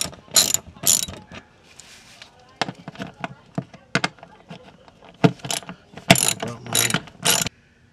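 Ratchet wrench clicking as bolts are removed from the lower engine cover of a 1995 Mercedes-Benz E320 (W124), with rapid ratcheting bursts and metallic clinks, close up, in intermittent spurts.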